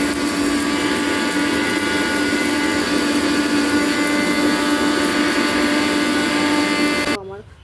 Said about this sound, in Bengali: উপকরণগুলো ঠান্ডা হলে মিক্সির মধ্যে দিয়ে এটাকে গুঁড়ো করে নেবে